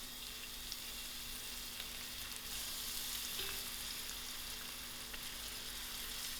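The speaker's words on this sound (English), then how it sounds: "To my oil, I'm going to add in my onions." Onions frying in hot oil in a pan for a chicken chutney, giving a steady, even sizzle that holds throughout with a few faint crackles and no talking.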